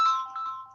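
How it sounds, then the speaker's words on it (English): A mobile phone ringtone chimes in a short bright electronic burst, tonal and fairly loud, with no one talking over it. "Someone's phone's going."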